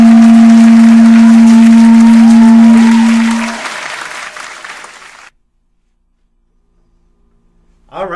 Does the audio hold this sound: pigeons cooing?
no